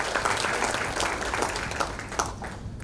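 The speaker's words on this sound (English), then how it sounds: "please give yourselves a big round of applause for a job well done." An audience at a finance research competition grand final gives a steady, dense round of applause filling the hall.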